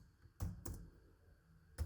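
A few separate computer keyboard keystrokes type an HTML form tag, with a pair of close clicks near the start and one more at the end, fairly soft with quiet gaps between.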